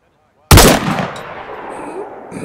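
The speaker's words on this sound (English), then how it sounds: "I'm shooting one by the medical." A single loud, close gunshot from the video game DayZ fires after a brief silence and is followed by a long, rumbling echo that fades out.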